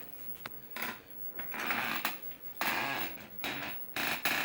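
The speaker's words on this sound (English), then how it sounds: "Got my old squeaky chair." An old squeaky chair creaks and groans in a series of short, uneven squeals and rubbing strains, with quiet pauses between them. The sound is close and fairly faint, with no voices.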